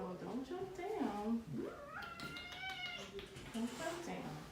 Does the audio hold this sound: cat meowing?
yes